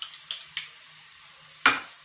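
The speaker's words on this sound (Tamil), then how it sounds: "இதெல்லாம் போட்டு நம்ம எண்ணெயில போட்டு வதக்க போறோம்" Coconut, jaggery and salt sautéed in oil for ginger pachadi, with a few soft stirring scrapes early on and one sharp sizzling burst near the end, low continuous hiss between.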